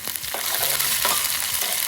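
Cumin seeds and green chili fry in hot oil, a continuous bright crackling sizzle with faint stirring scrapes, close and steady for a couple of seconds.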